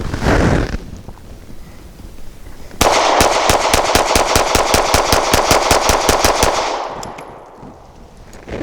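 A Canik TP9 Elite SC pistol emptying a full 18-round magazine outdoors, about twenty loud, evenly spaced shots fired in a fast, steady rhythm over roughly four seconds, then stopping as the slide locks open, with no talking.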